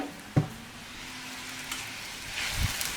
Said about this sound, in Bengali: এখন ভালো করে মশলাটা কষানো লাগবে।